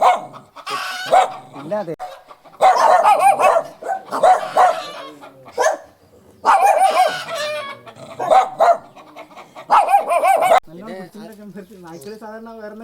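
Dogs barking in repeated loud bursts of yapping with short pauses between them, close by, mixed with clucking chickens, a short spoken word and a calmer stretch toward the end.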